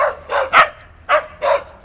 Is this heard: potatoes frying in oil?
no